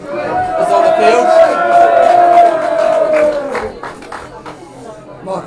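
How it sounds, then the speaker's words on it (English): Crowd applause and cheering at a 2021 Waikato club rugby premiership match between Hautapu and Morrinsville, greeting a substituted player leaving the field, a sustained roar rising then easing under a commentator's talk. "Michael Rope taking a seat and getting a good round of applause."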